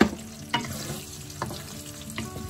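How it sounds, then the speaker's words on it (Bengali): Diced onion fries in oil with torn bay leaves, making a steady close sizzle punctuated by several sharp stirring scrapes and clunks. "পেঁয়াজটা আমি কিছুক্ষণ ভাজা ভাজা করব লাল করব না জাস্ট একটুখানি নরম করব"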